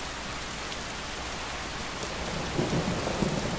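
Heavy rain pours steadily in Skyrim, a constant hiss with a low thunder rumble rising toward the end, moderately loud with no speech.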